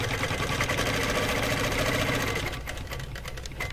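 A longarm quilting machine stitches through a quilt with a fast, steady mechanical chatter and motor hum, close and continuous, easing slightly near the end.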